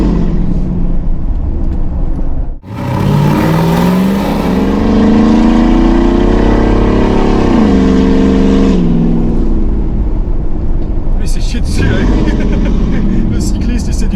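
A Ford F150 V8 engine roars during a burnout, loud and close, revving up with rising pitch, holding high, then dropping off, with people talking over it.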